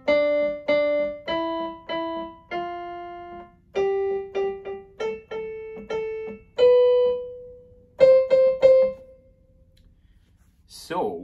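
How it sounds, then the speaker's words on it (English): Piano notes played one by one and in short repeated groups, each clear with a quick decay, moving through a simple sequence of pitches, then a brief voice at the end. "So if I were to play them on the piano, it would sound like this."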